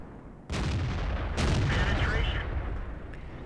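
A tank destroyer's main gun fires in World of Tanks as two heavy, booming shots about a second apart. A rumbling engine and battle noise continue loudly around them.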